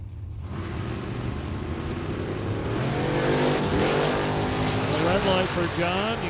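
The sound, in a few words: Ford Mustang and Pontiac GTO drag racing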